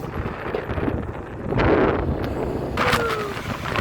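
Strong gusts buffet the microphone in a continuous roar, swelling louder midway, with a faint rustle underneath.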